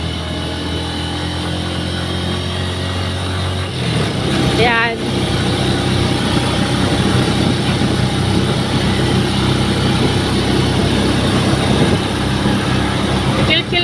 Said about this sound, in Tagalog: naririnig nyo yung iyak nung motor namin